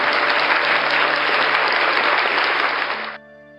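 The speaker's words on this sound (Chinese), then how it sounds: "来宾掌声鼓励鼓励。" A loud, dense wash of applause from guests during a live-streamed singing performance, holding steady for about three seconds before cutting off sharply, leaving faint background music tones.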